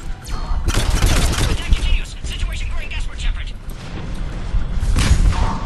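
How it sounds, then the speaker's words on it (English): Grenade explosions in the video game Mass Effect 3, a dense run of loud booming blasts and gunfire-like bursts, with heavy bursts near the start and end, layered over continuous battle noise. "Freaking grenades, man."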